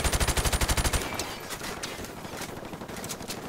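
Rapid automatic gunfire in the video game Modern Warfare, a loud burst of evenly spaced shots for about a second, then scattered distant shots and game noise.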